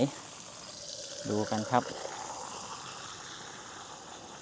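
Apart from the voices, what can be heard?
tap water flowing from a faucet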